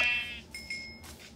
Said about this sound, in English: Oh wait, that's sheep.